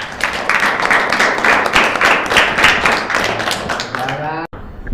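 Students at an Islamic boarding school clap their hands together, loud, close and dense for about four seconds before stopping abruptly, with voices mixed in.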